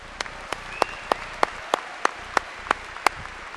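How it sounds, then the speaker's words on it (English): At a university commencement ceremony, a small group applauds and the claps come through as evenly spaced, distinct slaps with reverberation in a large hall. "Let's give him another round of applause."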